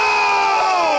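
At an AEW x NJPW Forbidden Door wrestling event, an arena crowd erupts in a loud sustained roar of cheering for a wrestler's entrance.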